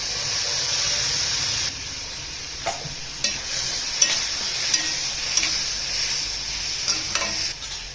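Finely chopped onion and ground coriander paste sautéing in a hot pan with asafoetida, a steady loud sizzle and hiss with occasional stirring scrapes and small pops, no talking.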